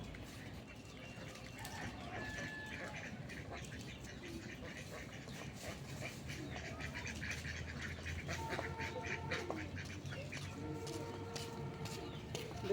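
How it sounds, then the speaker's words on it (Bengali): Village ducks quack in repeated nasal calls, moderately near and somewhat faint, over a steady outdoor background with other farm animals around; the quacking grows more frequent in the latter half. "দেখেন ভাই, গ্রামে অসহ্য সুন্দর হাঁস।"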